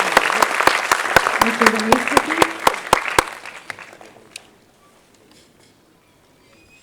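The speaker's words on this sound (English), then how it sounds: "Everyone, can we have a loud round of applause," Audience applause at a cinema panel discussion, loud at first with sharp distinct claps cutting through, then thinning and fading out toward the end while someone speaks over it.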